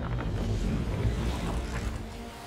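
Sailing ship Aquila under sail in Assassin's Creed 3, heard as a continuous rush of wind and water against the hull.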